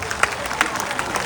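A live stand-up comedy audience at the Delhi Mango Festival gives a short, scattered round of clapping, several distinct claps over a soft crowd murmur.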